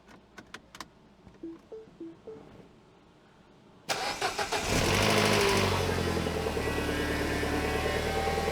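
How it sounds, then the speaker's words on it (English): A Mini's engine cranks and starts after a few light clicks, then settles into a loud, steady, close-up idle with a broad mechanical hum that holds for several seconds. "So I'm gonna let it idle for a good 30 seconds or so till the RPM drops down"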